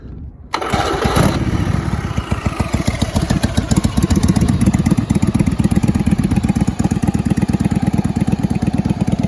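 A 1988 Yamaha Virago XV750 bobber motorcycle engine cranks briefly, catches and settles into a loud, close, steady rapid idle thumping that continues alone to the end.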